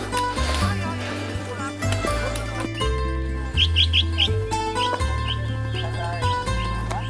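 Brief bright bird chirps come in a quick series along a flowery mountain path high above the sea at Cinque Terre, partly buried under louder music.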